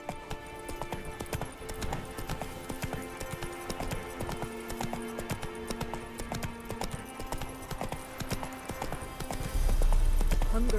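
Hoofbeats of the horse Roach galloping in the video game Witcher III, a steady, continuous clip-clop rhythm running throughout at moderate loudness, growing a little heavier near the end.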